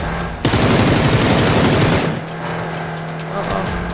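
Video game gunfire, a loud rapid automatic burst lasting about a second and a half, then fading into a low steady hum with a faint later shot.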